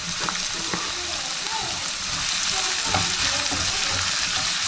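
Chicken with pepper and oregano frying and being stirred in a pan for a pizza topping, producing a constant close sizzle broken by spatula scrapes and taps.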